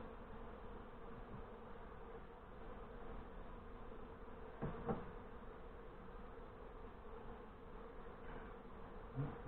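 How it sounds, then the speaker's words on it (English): Honey bees buzzing over the frames of a newly installed nuc hive in northern Michigan: a steady, dense hum of many bees, faint and continuous, with a brief louder pass from a nearby bee. "There's tons of bees on it working around too"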